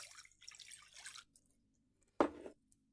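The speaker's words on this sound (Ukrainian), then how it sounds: "і додаємо стакан води." Water from a glass poured into a bowl of eggless, butterless cookie mixture with sugar and vanilla sugar, a short liquid splash and gurgle after a few quiet seconds, close and fairly loud.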